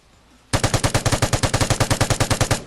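A Vigor LMG light machine gun in a video game fires one sustained burst of about twenty evenly spaced, loud, punchy shots, starting abruptly after a short quiet moment and cutting off cleanly, with no talking.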